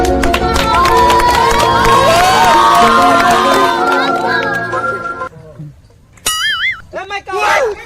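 An audience at a Bhojpuri comedy stage show cheers and shouts in a loud, dense crowd roar with children's voices mixed in; it dips briefly near the end, then returns in rowdy bursts.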